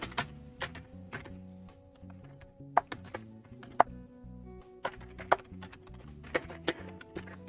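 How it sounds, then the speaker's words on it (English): Fast typing on a computer keyboard, a steady run of light clicking keystrokes with a few louder sharp taps, close up and alone. "Typing as fast as my little fingers will go"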